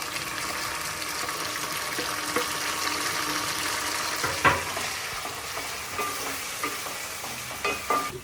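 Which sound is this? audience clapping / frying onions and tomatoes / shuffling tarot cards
frying onions and tomatoes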